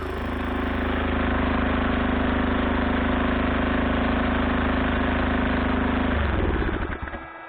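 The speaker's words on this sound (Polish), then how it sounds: "A tutaj jeszcze słychać dmuchawę wtłaczającą zimne powietrze do wymiennika ciepła." A cogenerator runs with a blower forcing cold air into its heat exchanger: a loud, steady droning engine hum with a constant airy rush over it, then the tone shifts and winds down near the end.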